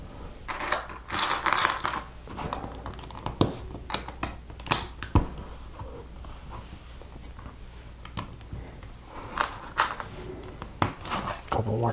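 Lego Technic bricks with axle holes and red corner bricks are picked through and clicked together by hand, giving scattered light plastic clicks and rattles at close range. A voice talks intermittently.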